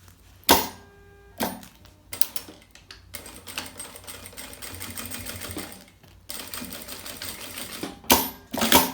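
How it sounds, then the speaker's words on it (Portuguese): Sewing machine stitching fabric for a children's bag in several bursts, a rapid mechanical clatter that starts and stops with short pauses between runs and a longer steady run in the middle. "coloco aqui direito com direito e passo a costura aqui"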